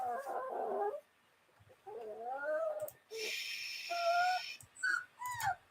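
A puppy whimpering and whining indoors, a series of high, wavering cries with short pauses between them, fairly close and moderately loud, with no talk over it.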